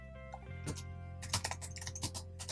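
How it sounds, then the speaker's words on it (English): A message being typed on a computer keyboard: bursts of quick, close key clicks, sparse at first and then denser, over a quiet background hum. "type them a message"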